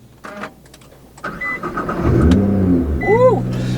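A modified 2015 Nissan GT-R R35 with tuned engine, Meisterschaft exhaust and GFB blow-off valves starts and revs up close and loud, its deep rumble rising into a sharp whistling spool near the end.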